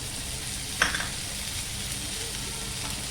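Curry leaves dropped into a hot pan for a beetroot coconut curry, with one sharp burst of crackle, then a few pops trailing into a steady, even sizzle.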